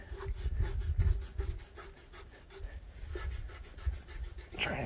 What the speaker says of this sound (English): really scrub that out